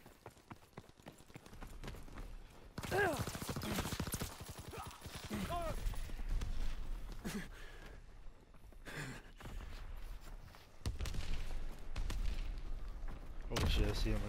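Gunfire in a WW2 video game comes in sharp bursts and bursts of rapid shots mixed with other game noise, loud and close at times, while a player speaks over it.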